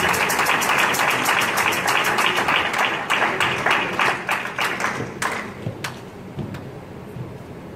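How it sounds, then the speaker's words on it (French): An audience at a thanksgiving church service held in memory of Papa Wemba claps in a loud, rhythmic unison beat that gradually thins and fades over several seconds. "encourageons-la par des acclamations"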